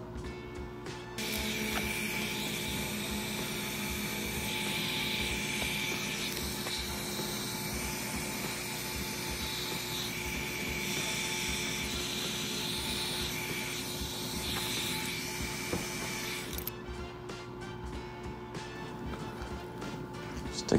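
A heating tool warms a pipe during a Polaris PB460 booster pump install, giving a steady, fairly quiet blowing hiss that runs continuously for most of the clip before cutting off near the end.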